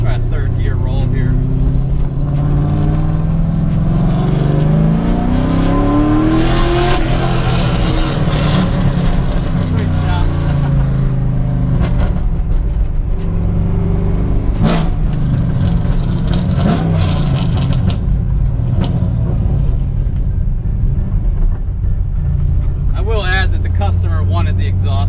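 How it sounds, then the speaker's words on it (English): Nissan S14 with an LS3 V8 and a custom catback exhaust pulling through a third-gear roll, a loud, deep engine drone rising and falling steadily throughout, close and continuous. "Got a pretty good exhaust tone."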